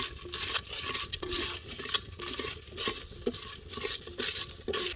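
Whole cinnamon, cloves, cardamom, fennel and poppy seeds dry-roasting in a pan for a village-style Tirunelveli chicken curry, with steady scraping and stirring, light rattling of seeds against metal and soft patter, close and continuous with no talk.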